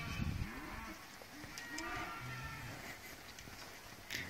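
Weaner calves moo in cattle yards, several overlapping low calls near and farther off, with rustling and shuffling between them.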